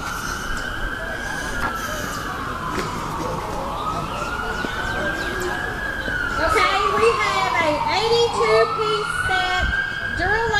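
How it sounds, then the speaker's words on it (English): A police car siren wails in slow rising and falling sweeps at an outdoor car and truck show, loud and continuous, with crowd noise and voices underneath. "There's Siren. Thought I did. The police are coming."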